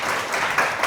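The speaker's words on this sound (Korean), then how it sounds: "박수 한번 할까요?" Brief, loud burst of audience applause at a talk event, a dense wash of many hands clapping close by.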